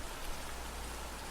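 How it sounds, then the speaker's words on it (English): Steady falling rain in the indie visual novel game Deluge, a soft, even hiss of drops with no voices and no change in level. "The voice quiets, and only the sound of falling rain remains."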